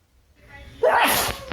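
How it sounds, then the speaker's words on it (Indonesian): A quick burst of sneezing, loud and close, rising sharply out of near silence and trailing off, with no other sound around it. "Terdengar suara bersin-bersin."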